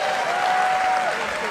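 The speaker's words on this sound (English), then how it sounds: "This crowd loving these greatest hits of Rey Mysterio." Professional wrestling crowd applauding a move during a Rey Mysterio versus Alberto El Patron match, a dense sustained wash of clapping and cheering from a large audience, loud and continuous, with a voice speaking over it.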